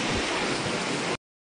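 Floodwater rushing through Hato Mayor, Dominican Republic, during Storm Isaías: a loud, steady broadband roar of churning water that runs continuously for about a second, then cuts off abruptly to silence.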